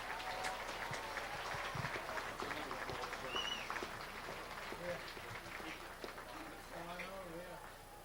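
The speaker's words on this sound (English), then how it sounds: "Let's give all of these inductees another round of applause" A stadium crowd at a high school football game applauds inductees, a broad, faint, steady wash of distant clapping mixed with crowd murmur and a few voices.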